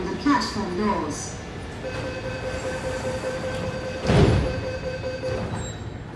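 An MTR train pulls out of the platform at Tung Chung station, rumbling with wheel squeal and a brief louder surge, heard at moderate distance under a faint voice.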